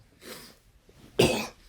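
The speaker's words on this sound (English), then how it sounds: "You ever cough so hard that it blows you back in your seat?" Two coughs from one person, a softer one followed after a pause by a hard, forceful cough, close and loud against a quiet room.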